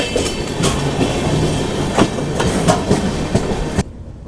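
Sabari Express passenger train running on rails, a steady loud rumble with rhythmic clicks and clatter of wheels over track joints, continuous and close, cutting off abruptly near the end.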